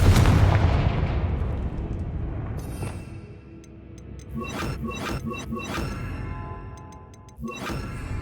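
Repeated fiery spell blasts in the fantasy game Hogwarts Legacy, a dense run of booming explosions with crackling bursts and chiming magic effects, loud at first then easing, with a fresh blast near the end.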